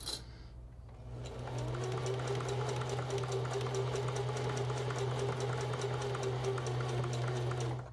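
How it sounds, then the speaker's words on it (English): A sewing machine stitches Lycra and fur for a bodysuit, starting with a brief rattle and then settling into a steady, fast, even hum of needle strokes, close and alone. "with enough pins you can hold everything together while you sew it shut"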